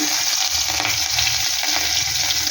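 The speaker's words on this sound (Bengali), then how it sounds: "একটু হালকা করে একটু ভেজে নেব কাঁচা গন্ধটা চলে যাবে" Ginger, garlic and green chili frying in oil in a wok give a steady, close hiss and crackle that runs without a break from start to finish, with no speech over it.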